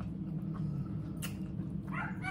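Dogs behind a door whimper and bark faintly under a steady low background hum, with a brief higher yelp near the end.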